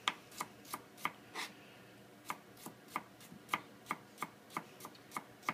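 A knife chops celery on a cutting board for clam chowder in a home kitchen, a steady run of about fifteen crisp, evenly spaced taps close to the mic, with no talk.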